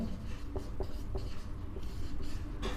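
Chalk or marker writes on a classroom board during a general science lesson on chemical compounds, with a series of short, distinct scraping strokes at an irregular pace over a fairly loud, steady background.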